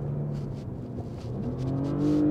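A Porsche Panamera 4 S E-Hybrid engine accelerates with a steady close-up rumbling drone that rises in pitch in steps as it pulls harder, with no talk.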